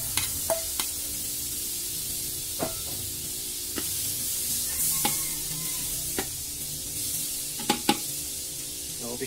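Margarine melting and sizzling in a heated wok, with a steady fry hiss and a few scattered pops and crackles, alone without talk.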